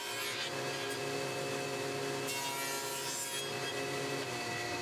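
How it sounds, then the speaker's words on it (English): Table saw cutting rabbets into the ends of long wooden frame side pieces, a continuous loud whining, rasping cut with shifting intensity and no talk. "So the 2 long side pieces of the outer frame get a rabbet cut in on each end."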